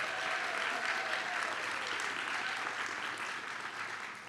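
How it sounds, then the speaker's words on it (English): An audience at a film event claps in a steady, even burst of applause, close and full, lasting several seconds without a break and easing off slightly toward the end. "Let's give them a round of applause."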